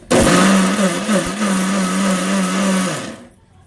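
A mixer grinder whirring loudly as it grinds ridge gourd pickle, starting abruptly, holding a steady motor whine with slight wavering for about three seconds, then winding down to quiet.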